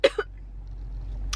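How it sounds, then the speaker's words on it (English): A woman gives two quick, dry coughs close up, followed by quiet room hiss and a brief soft noise near the end. "I have a cough, like a dry cough"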